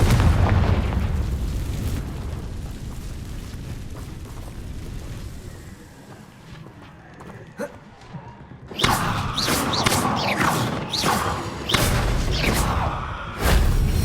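A Confringo fire spell explodes in the Hogwarts Legacy video game, a loud roaring blast with crackling rumble that fades, then a burst of sharp, bright crackling impacts and booms toward the end.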